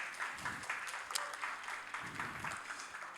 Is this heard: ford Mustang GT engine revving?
no